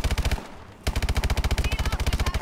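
Rapid automatic gunfire in Call of Duty Advanced Warfare: two bursts of evenly spaced, loud shots separated by a short pause, the second burst long and sustained.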